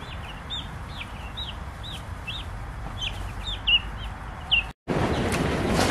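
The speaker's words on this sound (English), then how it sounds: "So we raise a variety of meat bird that's called a color yield, and they're from Freedom Ranger." Freedom Ranger color yield meat chickens on a homestead cluck and chirp repeatedly in a rapid rhythmic series over a constant background hum, ending in a brief gap and a burst of noise.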